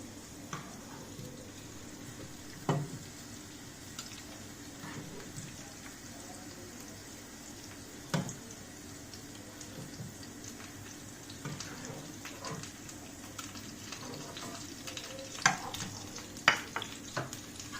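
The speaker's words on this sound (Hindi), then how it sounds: "मेरा ये प्याज लहसुन और अदरक और मिर्ची तीनों फ्राई हो चलिए।" Steady low sizzling of onion, garlic, ginger and chili frying in a pan for gobi manchurian, with occasional stirring clinks and scrapes, continuous and fairly soft.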